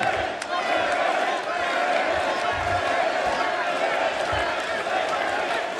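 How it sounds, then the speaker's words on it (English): Arena crowd at a professional wrestling TV championship match roars steadily throughout, a dense continuous cheer with scattered shouts and a commentator talking over it. "Crowd coming alive here."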